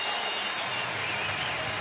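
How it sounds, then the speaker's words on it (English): A Sunday ballpark crowd at a Reds home game against the Pirates gives Pete Rose a standing ovation, a dense, even roar of applause filling the whole moment without pause. "they're now giving him a standing O."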